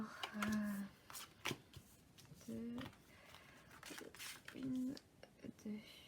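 Tarot cards are shuffled and handled close up in a quiet room, with short papery riffles and flicks between soft tonal hums, while a voice murmurs faintly.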